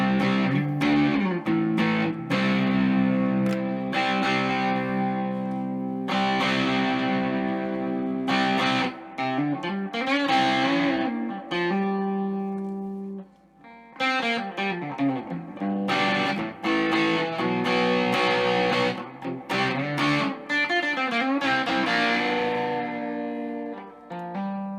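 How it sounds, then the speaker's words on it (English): Electric guitar through a Boss DS-2 Turbo Distortion pedal plays chords and riffs, thick and saturated, with sustained notes and bends, loud and continuous with a brief dip midway. "It's a distortion pedal."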